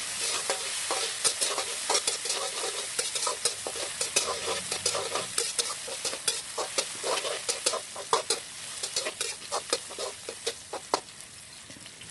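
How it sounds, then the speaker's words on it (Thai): Chili and garlic frying hard in hot oil over high heat, a continuous bright sizzle with irregular crackles and stirring scrapes, loud and close, no voices. "จากนั้นเราก็จะเจียวพริกกับกระเทียมให้เขาส่งกลิ่นหอมขึ้นมาก่อนค่ะ"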